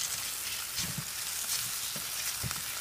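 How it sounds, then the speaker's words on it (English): Onions sizzle in a hot pan on the stove, a dense continuous frying hiss with occasional soft stirring thumps, close and steady, no speech. "Actually, I'm gonna throw the onions in."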